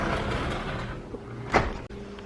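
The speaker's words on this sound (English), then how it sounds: "Close the door." A house's screen door swings shut with a single short clack over quiet room noise.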